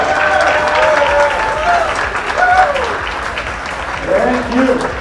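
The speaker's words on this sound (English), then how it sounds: "Let's give them a big round of applause" A cruise ship audience aboard the Carnival Victory claps for the dining room staff, a steady wash of applause with a voice carrying over it throughout.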